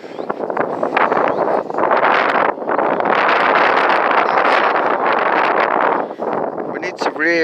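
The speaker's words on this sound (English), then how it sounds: "Oh, it's windy here" Strong wind buffeting the microphone during a forest walk, a loud continuous roar with gusty swells that dips briefly near the end.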